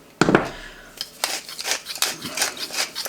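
Dijon mustard, minced garlic, salt and pepper are stirred together in a dish, making a series of close, uneven scraping and rubbing strokes at a loose rhythm, with no talking.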